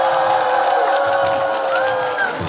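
A crowd at an outdoor festival stage cheers, with sustained whoops and shouted voices over a noisy background. Scattered clapping sits underneath.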